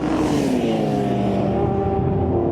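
A Clubmans race car laps the Silverstone circuit during a testing session, its engine droning loud and steady with a slowly sliding pitch as it passes, a continuous roar that carries through the whole stretch with no voices.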